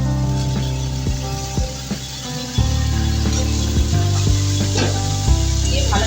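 Taro stolons (kochur loti) fry in a hot pan in Bengali style, a close, continuous sizzle broken by several sharp scrapes and knocks of stirring.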